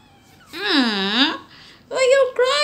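A pet cat cries after a shampoo bath, letting out a long, wavering, drawn-out meow and then a second shorter, rising cry. Both are loud and very close, with no one talking over them.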